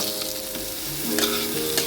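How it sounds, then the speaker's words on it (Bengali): Crushed garlic, onion and green chili frying in oil: a close, steady crackling sizzle with brief stirring scrapes, heard alone. "তার সাথে পেঁয়াজ আর এই কাঁচা লঙ্কাটাও আমি দিয়ে দিলাম। এগুলো ভাজা করে নেবো।"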